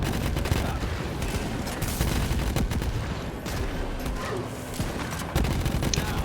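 Explosions and gunfire from the Borderlands 3 video game, a dense nonstop barrage of rapid shots and booms that stays loud and steady throughout, with no voices.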